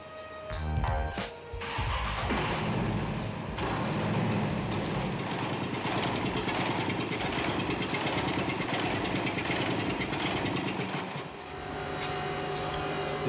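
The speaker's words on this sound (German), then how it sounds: "Wenn der Motor anspringt, hätte sich die Mühe noch gelohnt." A scrapyard car with a wrecked front and faulty oil filter cranks and catches, then settles into a steady, rough running rumble that continues loudly before easing slightly near the end.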